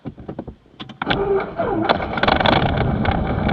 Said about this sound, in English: this baby turns over in like 4 cranks